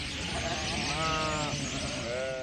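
Sheep in a herd on the Hungarian Puszta bleat in several wavering calls, one long cry followed by a shorter one, heard moderately close over soft open-air background.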